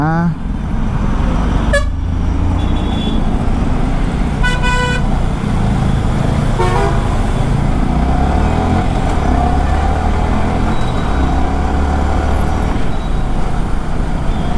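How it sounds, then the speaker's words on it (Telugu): Busy evening road traffic seen from a moving R15 V3 motorcycle, with a steady engine and road rumble and several sharp car horn toots near and far. "అమ్మో ఇక్కడ ఫుల్ ట్రాఫిక్ ఉందిగా, అప్పుడే స్టార్ట్ అయింది ట్రాఫిక్ ఇక్కడ"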